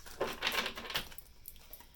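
Tarot cards are shuffled close by in a few quick papery riffles and slaps during the first second, followed by softer faint rustling and taps.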